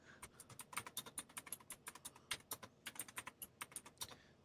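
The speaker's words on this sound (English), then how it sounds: "Y'all can hear that mechanical keyboard he's got." Rapid typing on a mechanical keyboard: dozens of crisp, close clicks in uneven bursts with short pauses, loud and alone with no talk.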